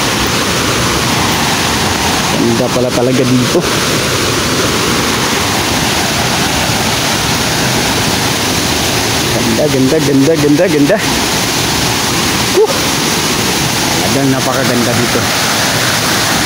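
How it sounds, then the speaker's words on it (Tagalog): Alegria Falls in Surigao del Norte rushes as a constant, full roar of falling water, steady throughout while a person talks over it at intervals. "Yan ang talon."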